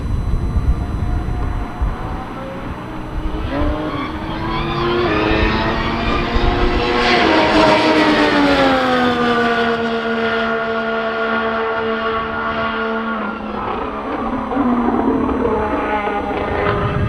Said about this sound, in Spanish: se escucha también el nuevo RB20 rodando en Silverstone.